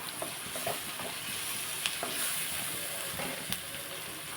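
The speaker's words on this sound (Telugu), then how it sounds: "ఇదిగోండి ఉల్లిపాయ బాగా మగ్గింది కదా మనకి" Onions soften in oil in a pan, giving a steady close sizzle with light scraping from a spatula and occasional small pops, no talking.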